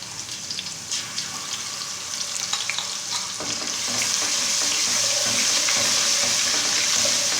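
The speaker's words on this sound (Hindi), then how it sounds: "अदरक लहसुन का पेस्ट गोल्डन हो चुका है।" Steady sizzling and frying of ginger-garlic paste in a pan, with occasional stirring clinks, the hiss growing louder and denser partway through as the paste turns golden.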